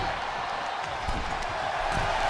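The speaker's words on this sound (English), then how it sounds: "The sound of this crowd is deafening, and he's asking for more." A dense, roaring wrestling crowd in the game WWE 2K23 cheers continuously, a loud wall of noise with occasional thuds and shouts rising out of it.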